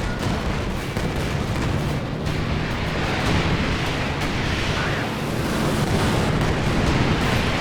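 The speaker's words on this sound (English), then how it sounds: "Here comes another P-47 rocket strafe" Rocket strafe explosions from a P-47 fighter in a World War II real-time strategy battle in Company of Heroes 2, heard as a dense, continuous roar of booms and rumbling blasts at high volume with no pauses.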